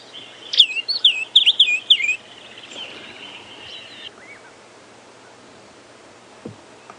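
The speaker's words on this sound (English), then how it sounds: "And the next was a starling" A burst of rapid, high chirping and whistled notes from a starling, then fading into quiet background hiss with a faint call later, on a morning safari drive at Djuma Game Reserve.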